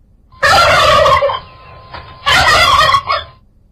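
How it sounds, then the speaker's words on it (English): A turkey gobbles twice, loud and close, each a rapid warbling burst separated by a short pause. "Turkey."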